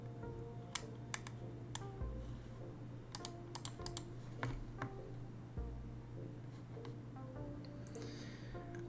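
Keyboard typing with keycaps, irregular clicky keystrokes in short bursts and scattered single taps, fairly close, over a steady low electrical hum.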